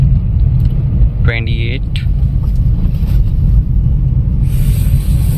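A Renault Kiger non-turbo car rolls along in gear with no throttle, giving a steady low road and engine rumble throughout, with someone speaking over it near the start.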